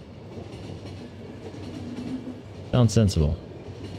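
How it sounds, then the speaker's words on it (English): Train rumbling along in the video game The Final Station, a low steady drone under someone speaking, with a brief loud burst of train sound near the end. "Train arrived."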